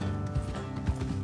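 Horses in Red Dead Redemption 2 walking, two or three soft, muffled hoof clops over a low rumbling game-audio bed, brief and fairly close.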